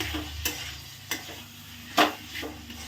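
Tomatoes with ginger, garlic and green chilli paste frying in a pan, a soft steady sizzle broken by a few sharp spoon-scraping stirs, close and alone with no voices.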